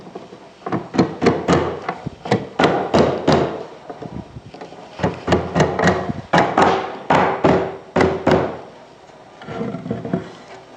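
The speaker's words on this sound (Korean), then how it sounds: "망치로 살짝 조정을 하실 수 있습니다" A mallet taps on a wooden board to adjust a domino joint in a drawer-making workshop, with quick bursts of sharp knocks in several groups and short pauses between them.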